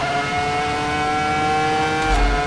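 Ferrari F2004 V10 Formula One car screaming at high revs around Silverstone in the Assetto Corsa racing game, a sustained steady engine whine with a low rumble swelling near the end, no voices.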